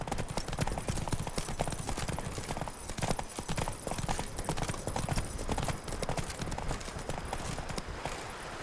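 Geralt's horse Roach gallops in The Witcher 3: Blood and Wine, hooves clip-clopping in a fast, steady rhythm under a constant stream of game ambience.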